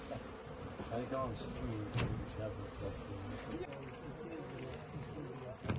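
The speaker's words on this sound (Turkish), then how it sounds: "Şu anda arılar da tabii etrafta" Bees swarm around beehives during the pine honey harvest, a dense, steady buzzing close by with individual insects passing near, while people talk faintly in the background.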